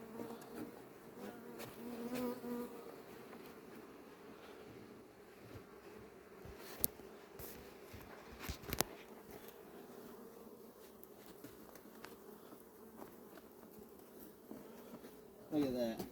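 Honey bees buzzing around an open beehive, a continuous low drone that is faint and steady, with scattered knocks and handling noises and people talking quietly now and then.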